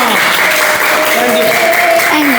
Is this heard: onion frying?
no